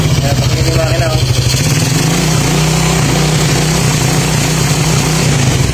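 A Suzuki Raider J Pro motorcycle engine, running abnormally, runs loud and close with a steady, throbbing low rumble and rapid pulsing beats, no pauses.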